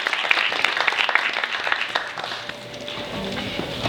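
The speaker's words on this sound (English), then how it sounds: "A loud round of applause," Audience applause welcoming a speaker at a Black history church talk, clapping strongest at first and then thinning out, with a low mechanical hum and some murmur underneath.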